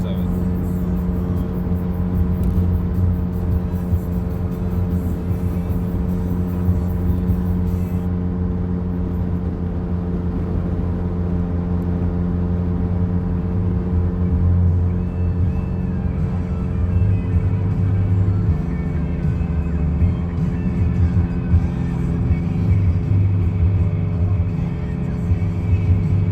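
A car is driven along a road in Maine, heard from inside as a constant low engine and road rumble with a steady hum. It stays even throughout, with slight swells in the low drone partway through.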